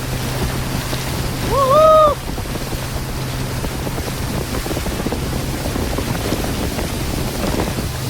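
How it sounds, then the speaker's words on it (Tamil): A speedboat carrying five people races across open water near Ooty, giving a steady rushing drone of hull, spray and wind throughout, with a brief rising whistle-like tone near the start. "இந்த போட்டில் பார்த்தீங்கன்னா 5 பேர் போயிட்டு இருக்கிறாங்க. ஸ்பீடாக போகுது"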